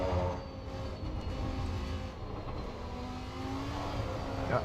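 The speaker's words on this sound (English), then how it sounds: "You can hear the engine okay." A Lamborghini Super Trofeo race car in Assetto Corsa EVO drones steadily around Suzuka, its engine tone holding and then rising near the end, fairly loud with no talk.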